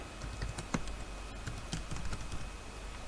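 Irregular keystrokes on a computer keyboard tap out C code, close and moderately loud over a noisy background, with no one speaking.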